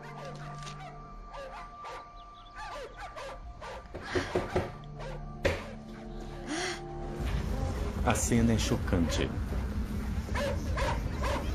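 Dogs held in a backyard bark and yip in agitated bursts amid commotion, with a person speaking over them and a gasp; the noise grows busier toward the end.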